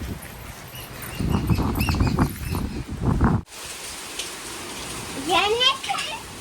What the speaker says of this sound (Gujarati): વરસાદ પાછો ચાલુ થઈ ગયો